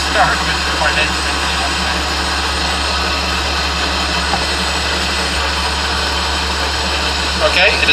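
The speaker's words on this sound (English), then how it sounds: "Just started with the turbine engine." A Strv 103C tank's turbine engine runs with a steady, continuous whine and low hum, close and constant throughout.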